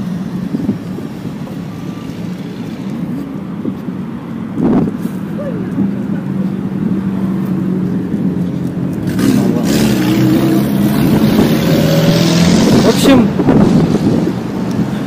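Steady wind buffeting the microphone over a low rumble of passing traffic, growing louder and rougher in the second half.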